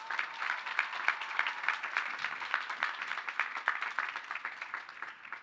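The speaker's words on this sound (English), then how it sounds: "Let's give her another warm round of applause." Audience applause at a 2019 Lehman College graduation ceremony: dense, steady clapping from a large crowd, sustained at even loudness for several seconds with no talking over it.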